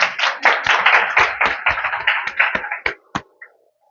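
Classroom students clap in a brief, uneven round of individual hand claps that thins out into a few final isolated claps before falling silent.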